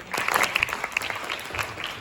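An audience at a conference claps to welcome a speaker onto the stage, a moderate patter of hands with some sharper individual claps standing out, somewhat distant and fairly soft.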